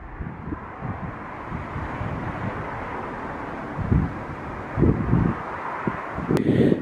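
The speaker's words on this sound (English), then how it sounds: "Woo, it's windy." Strong gusty wind buffets the microphone outdoors on a street in Oldham, with a constant low roar and rumbling thumps, alone without talk.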